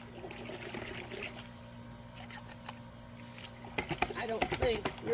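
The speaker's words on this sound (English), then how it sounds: "We're going to go and rinse this thing off." A mud-covered Canik TP9 Elite Combat pistol is rinsed in muddy water, giving a steady trickle that turns to louder, uneven splashing near the end.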